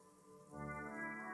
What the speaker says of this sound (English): Rain falls down.